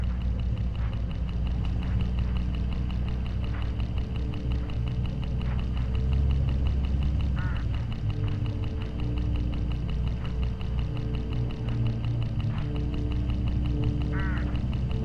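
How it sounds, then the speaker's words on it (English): Hooded crows along a road in the Hitchhiker video game give a few short, scattered caws over a steady, low ambient rumble. "Look, hooded crows all along this road."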